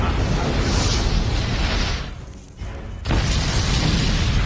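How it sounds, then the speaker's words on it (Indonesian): Explosives stored in a warehouse go up in a massive film blast, a roaring, rumbling wall of noise that drops briefly into a hollow lull before the thunderous roar surges back. "menyebabkan ledakan besar setelah bahan peledak yang tersimpan di gudang terkena percikan api"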